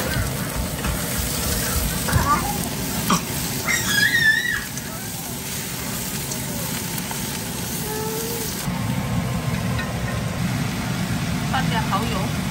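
Sausage, garlic and carrots stir-frying in a wok, a steady close sizzle with clanks and scraping of the utensil, brief squeaks midway, and a voice talking over it.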